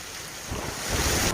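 Heavy monsoon rain pours down as water flows across roads near Modasa in Gujarat, a dense, steady roaring wash that swells louder over a brief moment.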